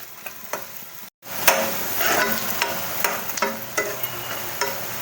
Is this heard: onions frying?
yes